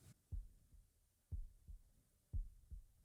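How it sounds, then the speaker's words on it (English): Slow double-thump heartbeat, three soft low lub-dub pairs evenly spaced, quiet and alone. "It's like a heartbeat."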